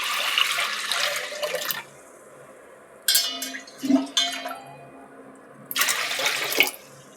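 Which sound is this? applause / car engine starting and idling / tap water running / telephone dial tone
tap water running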